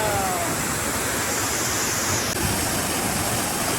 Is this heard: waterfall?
yes